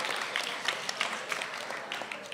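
A school spoken word poetry audience claps for the poets, a brisk sustained round of applause from a moderate crowd, fairly close and continuous.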